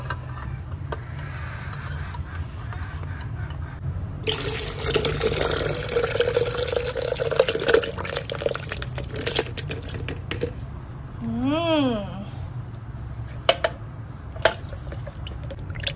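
Water running and splashing as it is poured into a container while preparing food, a steady close stream lasting throughout with brief bubbling and a few sharp clicks near the end, no voices.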